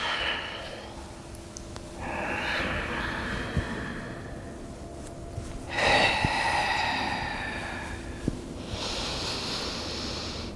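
Slow, audible breaths during a yoga flow, with long drawn inhales and exhales alternating every couple of seconds, close and fairly soft over a quiet background hum, without speech.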